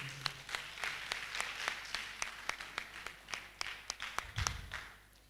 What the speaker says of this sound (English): So please clap for him.